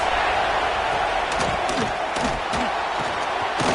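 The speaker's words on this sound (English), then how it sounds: "This crowd trying to make life miserable for this offense." A college football video game stadium crowd from Georgia vs Western Kentucky roars as a loud, steady wash of noise, with scattered thumps and swells rising through it.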